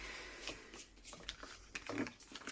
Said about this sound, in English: So while I'm shuffling this